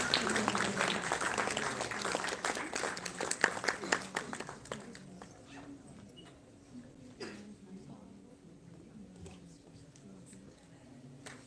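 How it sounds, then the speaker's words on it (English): Audience applause at a live felicitation ceremony during a spring festival event, dense clapping at first that thins into scattered claps over background murmur and voices. "A big round of applause, everyone, for sir."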